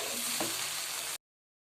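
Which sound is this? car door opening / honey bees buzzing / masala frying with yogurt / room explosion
masala frying with yogurt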